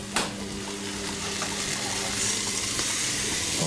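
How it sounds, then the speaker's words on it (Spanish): Cream poured into a hot pan with mushroom sauce base, a steady liquid pouring and gushing sound that runs continuously and close up for a few seconds, with no one talking. "Le echamos la nata."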